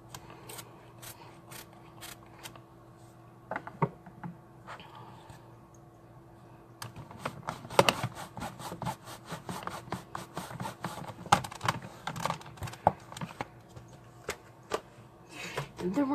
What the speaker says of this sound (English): Get my stamp and scrub out to clean up the Happiest Birthday.